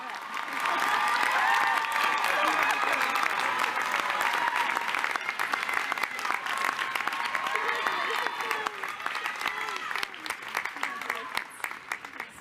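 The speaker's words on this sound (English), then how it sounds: "Let's clap." Sustained applause from a graduating law school convocation audience, steady and full for about twelve seconds, with cheering mixed in and a voice briefly speaking over it.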